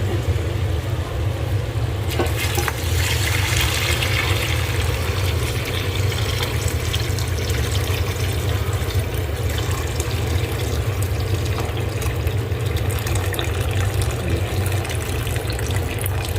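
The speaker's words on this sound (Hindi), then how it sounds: "अब इसमें हम बस यखनी डालेंगे" Yakhni broth for chicken pulao pours into a cooking pot as a steady, loud liquid rush with a continuous splashing hiss, running unbroken and with no voices.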